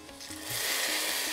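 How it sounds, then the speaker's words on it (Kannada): Spices for tempering hit hot oil for a South Indian vegetable sambar, starting soft and swelling into a bright, continuous hiss after a moment, close up with no talk. "ಕೊನೆಯಲ್ಲಿ ಒಗ್ಗರಣೆ."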